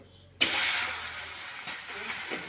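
Oil hits a hot griddle with a sudden sharp sizzle close by, continuing as a steady frying hiss that slowly softens.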